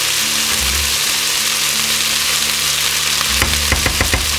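Potatoes and meat fry in a pan with a steady, close sizzle throughout, joined near the end by a quick series of sharp scraping and stirring knocks.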